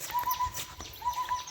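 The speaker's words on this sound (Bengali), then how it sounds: "ওই যে একটা পাখি ডাকতেছে গাছের মধ্যে" A bird calls from a tree outdoors in rural Dhobaura, Mymensingh, giving a few repeated soft hooting notes in two short bursts at moderate distance.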